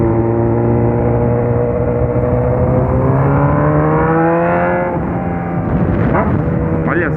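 Honda Hornet motorcycle with a straight-pipe exhaust, loud and close, revving in rising, sustained pulls with a raspy, buzzing tone that dips and then climbs again.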